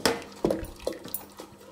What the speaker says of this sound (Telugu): మెత్తగా చేసుకోవాలి పప్పును.